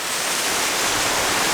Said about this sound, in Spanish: Esta cascada se ve impresionante.